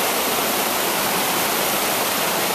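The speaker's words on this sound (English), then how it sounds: "you want that roar of the water, the waves, you can get it right up here. This almost sounds like the beach. Waterfalls" A waterfall on the Multnomah Falls trail roars as a steady, dense broadband rush of falling water, loud and unbroken with no voices over it.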